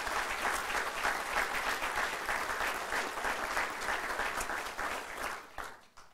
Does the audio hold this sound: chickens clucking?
no